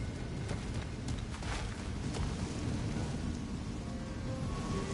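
Storm-ridden desert wasteland of Alfheim in God of War Ragnarok, with steady rain and low rumbling thunder rolling continuously at moderate, fairly distant loudness.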